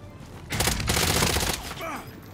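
Video game gunfire erupts in a loud close burst of rapid shots lasting about a second, then fades into quieter game sounds.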